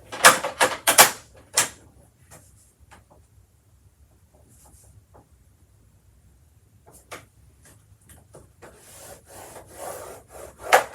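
A stylus scoring lines across paper along a cut-apart pattern for a craft, a cluster of short scratchy strokes at the start, a quiet stretch, then more intermittent scraping and rubbing toward the end, close up with no speech.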